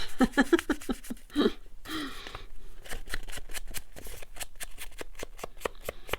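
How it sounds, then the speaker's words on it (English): Scissors cutting paper snip repeatedly in quick, crisp cuts, close by, forming a fast rhythmic series of short clicks with a little rustling between them. "or you can just use scissors."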